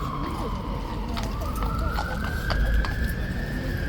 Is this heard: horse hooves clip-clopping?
yes